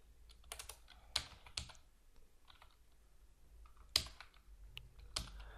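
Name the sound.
typing code on a computer keyboard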